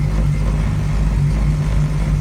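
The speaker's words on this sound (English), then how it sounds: "we're actually driving the 1967 Ford Mustang" A 1967 Ford Mustang, with a rebuilt carburetor that still needs tuning and new spark plug cables, runs while driving, giving a loud, steady low engine drone with a faint pulsing hum and no talk.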